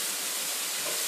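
Onions and green peppers sauté fast in hot oil, giving a steady, bright, continuous sizzling hiss close up, with no voices.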